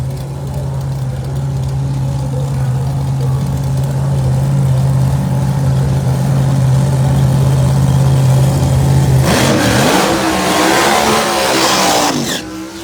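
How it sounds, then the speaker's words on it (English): Outlaw Pro Mod drag race cars at Northeast Outlaw ProMod round 3 qualifying: a steady, droning engine tone holds for several seconds, then a sudden, loud, roaring burst as a car launches down the track and fades near the end. "That was the first car down the racetrack"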